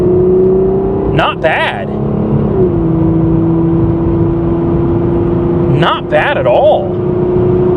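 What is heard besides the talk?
1988 Chevy Cavalier Z24 engine accelerating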